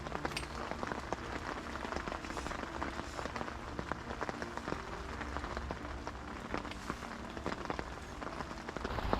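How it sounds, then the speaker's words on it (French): Heavy summer rain patters on surfaces beside a river in a dense, steady crackle of drops, moderately quiet and without speech. "grosse pluie"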